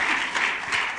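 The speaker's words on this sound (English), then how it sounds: "So please, a round of applause for Mr. Chapelet." A graduation-ceremony audience at the Rolex Learning Centre applauds a guest speaker, a brief, full burst of many hands clapping that stays loud and dense throughout.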